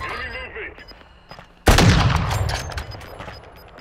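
Loud, close gunfire bursts in the battle royale shooter Warzone 2, a sharp shot at about 1.7 seconds followed by sustained rattling fire, after quieter game sounds and faint voices.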